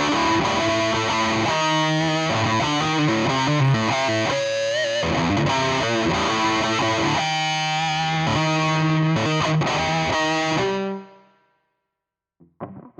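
Electric guitar played through a Pro Rat distortion pedal, chugging chords and riffs with a thick, saturated crunch, loud and continuous for about eleven seconds before cutting to near silence with a faint noise at the end.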